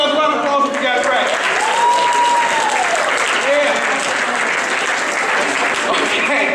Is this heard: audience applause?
yes